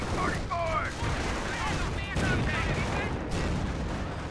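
Tank cannons and tank-destroyer guns firing in Company of Heroes, Panthers and Marders engaging in a steady battle din of repeated booming shots and gunfire, with radio-style unit voices chattering over the combat.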